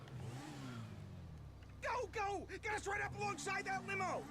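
A motorcycle engine revs repeatedly in Grand Theft Auto 5, rising and falling in quick throttle bursts after a low idle hum. The revving is fairly loud and close, with the engine tones sweeping up and down.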